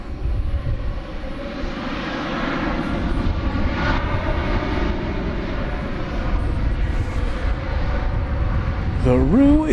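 Qantas jet airliner taking off at night at DFW Airport, a steady, fairly loud engine roar that builds gradually, with a short rising vocal sound cutting in at the very end.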